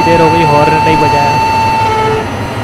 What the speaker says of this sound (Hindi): काफी देर हो गई हॉर्न नहीं बजाया।